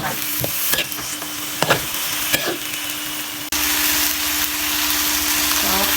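Chili and eggplant stir-fried in a hot pan, a loud continuous sizzle with scraping clatters from the spatula, rising abruptly to a stronger hiss partway through as the frying intensifies.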